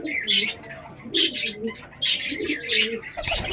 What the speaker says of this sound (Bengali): তাকে আমি দেখাচ্ছি পায়রাটা